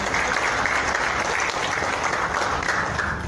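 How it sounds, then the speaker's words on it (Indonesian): A seated audience at the Priok mask-wearing declaration event in Jakarta claps steadily and evenly, a dense, loud patter of applause that fills the whole stretch without a break. "Kita beri tepuk tangan."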